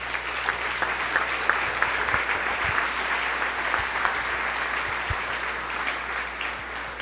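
Congregation applause at a Sunday church service: steady, dense clapping from many hands fills the room evenly for the full seven seconds, with no voices over it.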